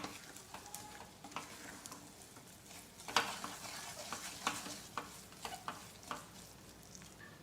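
Desi jaggery mixture for fasting-day flour sukhadi is stirred in a pan, giving faint, close, irregular scraping strokes over a soft low sizzle, with no voices.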